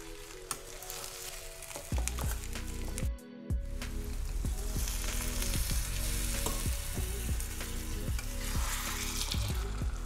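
Potato and onion masala for masala dosa cooks in a pan with a little water, sizzling steadily and close while a spoon repeatedly scrapes and stirs, one short pause midway, no talk.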